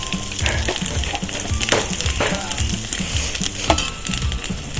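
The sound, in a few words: bay leaves and potato curry frying in a pan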